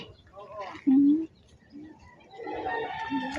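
Chickens and chicks on a large farm cluck and call, with one short louder squawk standing out, while people talk nearby throughout.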